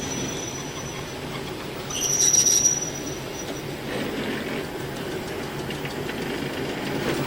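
Electric multiple unit train rolling slowly toward a stationary train, a steady rumble of wheels on rail with a brief, loud high-pitched wheel squeal partway through, no voices.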